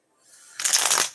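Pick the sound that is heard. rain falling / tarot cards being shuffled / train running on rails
tarot cards being shuffled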